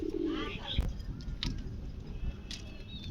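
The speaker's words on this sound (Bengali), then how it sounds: "এই কবুতরটির নাম গিরিবাজ" A Giribaj pigeon coos softly and briefly amid low background noise, with a few faint chirps from other birds.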